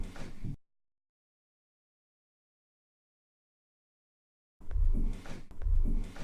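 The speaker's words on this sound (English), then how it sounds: "This is basically a leftover from touching of the recorder" Handling noise from fingers touching a handheld recorder: a brief rough rumble at the start, a long silent gap, then two heavier bursts of close scraping and thumping near the end.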